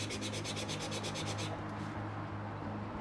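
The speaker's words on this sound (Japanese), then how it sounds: "目印までヤスリで削ります。" Quick, even rasping strokes of a file on a metal stone setting for a lapis lazuli pendant, about nine in a steady rhythm for a second and a half, then stopping over a low background hum.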